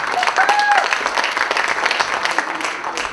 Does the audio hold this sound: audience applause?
yes